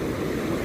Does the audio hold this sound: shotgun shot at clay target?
no